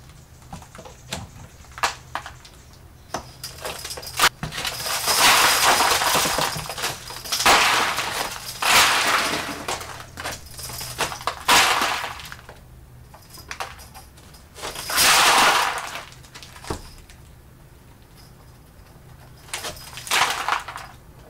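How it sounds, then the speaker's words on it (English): A sliding glass door breaking, heard as a series of loud bright crashes and tinkling glass bursts separated by quieter gaps, with several distinct impacts over about twenty seconds. "There we have it. Broken sliding glass door."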